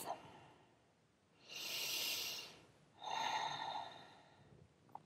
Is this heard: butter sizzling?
no